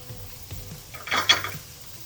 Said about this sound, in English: Here comes the butternut squash. You can hear that sizzle